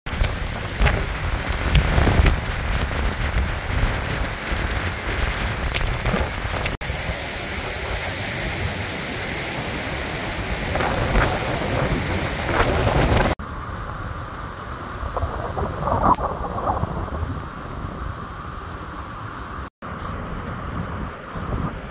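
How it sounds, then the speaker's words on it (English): Steady rushing water of a small brook in full spate after rain in the Lake District roars close by, a dense broadband wash with wind gusting across it, continuing without pause and no voices. "Bring this little brook into full spate."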